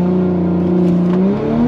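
A drag car launches hard down a quarter-mile strip on a hot day, its engine roaring loud and close with strong rising harmonic tones that climb steadily through the run.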